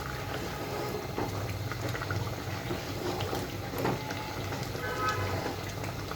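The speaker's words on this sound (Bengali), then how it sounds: "ঠিক দশ মিনিট পর আমি ঢাকনাটা উঠিয়ে নিচ্ছি দেখুন কত সুন্দরভাবে মাংসটা কিন্তু সেদ্ধ হচ্ছে" Beef with vinegar simmers in a pot, giving a continuous bubbling, watery burble at moderate, even loudness throughout.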